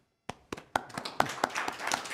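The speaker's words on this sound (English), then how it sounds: "So everyone give yourself a round of applause" Meeting attendees at a Glendale Water and Power Commission session clap in a scattered, building round of applause, starting with a few separate claps and thickening into steady clapping, moderately close.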